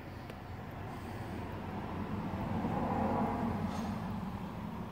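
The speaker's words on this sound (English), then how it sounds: "Lots of traffic noise this morning." Morning road traffic rolls past as a continuous broadband roar, swelling slightly in the middle as vehicles pass, with no voices over it.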